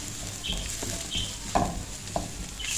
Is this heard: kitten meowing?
no